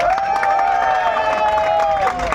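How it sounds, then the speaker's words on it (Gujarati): A crowd at a celebration for a new car cheers and applauds loudly, a continuous roar of voices and clapping with a sustained shouted or whistled tone running through it. "એમના માટે જોરદાર તાળી થઈ જાય"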